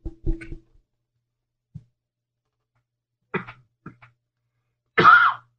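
A man coughs in short, separate bursts, a few faint ones early on and a louder, harsher fit at the end, close to the microphone with no talk.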